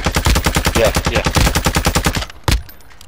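Automatic video game gunfire on the Ashika Island map: a loud, fast, evenly pulsing burst lasts over two seconds, then stops, followed by one sharp final shot.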